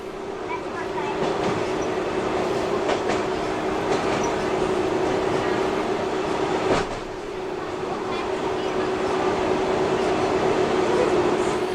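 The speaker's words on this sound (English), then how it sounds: "Are you still hearing the sound of the train journey and all the sounds?" A train journey from a virtual ride heading toward Aldgate plays as a continuous rumble of carriages on rails, with a steady hum and scattered faint clacks and knocks at an even, moderate level.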